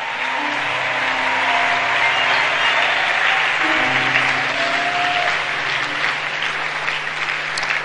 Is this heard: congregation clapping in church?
yes